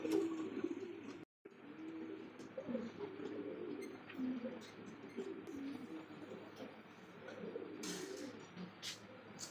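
Sirazi and Lahori pigeons coo softly in a loft, low throaty calls repeating through the clip with faint background rumble and a brief dropout; no clear talking.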